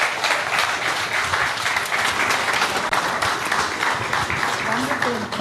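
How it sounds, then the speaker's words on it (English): A crowd at a business forum cultural program applauds a speaker with sustained, dense, even clapping that stays loud and close. "A louder round of applause for Dr."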